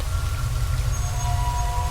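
Steady rain falls in a continuous wash with low rumbling underneath, an outdoor downpour on the ground after a truck crash, even and unbroken for the whole stretch.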